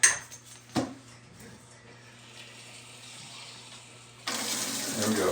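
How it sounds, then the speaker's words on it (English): A pump being filled with antifreeze coolant, water-like pouring and gurgling with a sharper splash near the start, then a louder, steadier rush of liquid toward the end. "We're gonna fill this pump up."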